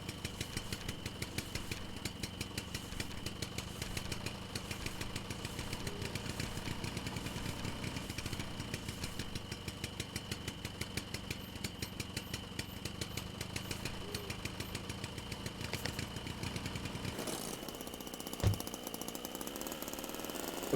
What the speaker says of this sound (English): as long as the engine's running, it's fine. You just shouldn't shut it off.